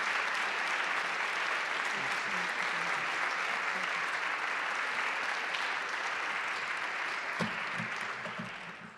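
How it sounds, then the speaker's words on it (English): Conference audience applauding a United States Senator, steady sustained clapping filling the room for about eight seconds before beginning to fade at the end. "How about another round of applause for our incredible United States Senator?"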